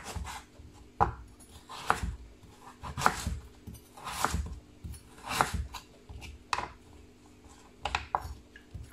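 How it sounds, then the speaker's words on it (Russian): Carrot is cut into thin strips with a kitchen knife on a board for sushi rolls, a steady run of crisp, close chopping strokes about once a second with small scraping sounds between them, without talk. "Морковь мы тоже нарезаем,"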